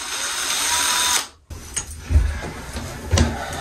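A power drill with a concrete bit bores holes in a chair, first a steady loud whine, then a sudden stop followed by short bursts of drilling and clunks.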